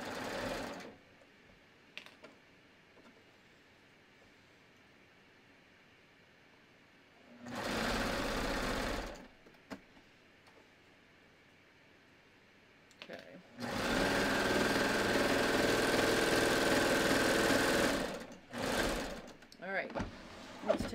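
A home sewing machine stitching a t-shirt runs in two bursts, a short one and a longer steady whirring run of about five seconds, with quiet pauses around them and a brief restart at the end.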